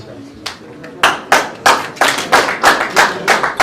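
Rhythmic clapping from a wedding audience, sharp claps repeating in a quick even beat, growing to regular strong claps after the first second, loud and close, with a voice mixed in.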